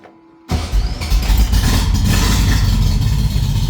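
A custom 1962 VW Beetle engine cranks and catches after a half-second of quiet, then settles into a loud, steady, lumpy idle close by with no talking.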